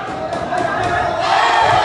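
Crowd of fans cheering at an amateur boxing match, a loud sustained roar of voices that swells slightly toward the end.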